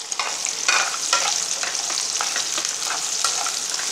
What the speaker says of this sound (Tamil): கொஞ்சம் நேரம் எண்ணெயில் வதங்கட்டும்.